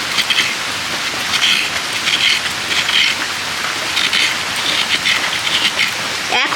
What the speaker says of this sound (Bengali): তো নারকেলটাকে এবার কুড়ুনির সাহায্যে কুড়ে নেব।